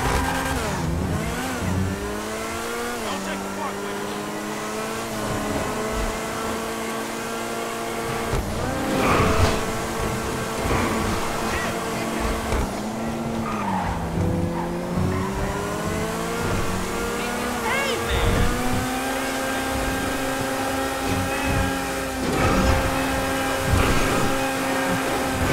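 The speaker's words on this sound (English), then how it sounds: "let's push the car to the limits and let's see how fast it can go" Vysser Neo sports car in GTA Online driving flat out, its engine note climbing and dropping through steady revving gear changes, loud and continuous with no talk over it.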